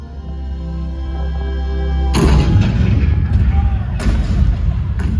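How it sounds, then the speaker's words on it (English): A low droning hum gives way to a sudden loud boom, followed by repeated heavy cannon blasts echoing out, with a voice speaking beneath. "The cannons spoke for war."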